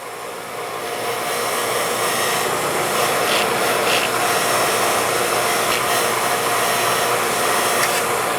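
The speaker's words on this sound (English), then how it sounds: "I'm going to clean it with a grinder." Angle grinder fitted with a wire wheel scrubbing rust off a rotary brush cutter's center transmission, spinning up within the first second into a loud, steady, close whirring hiss with brief scratchy flares.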